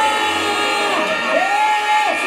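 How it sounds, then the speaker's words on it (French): An audience at a school year-end closing ceremony cheers loudly for a dad, with sustained crowd noise and rising whoops and shouts over a continuous din. "Applaudissez pour papa."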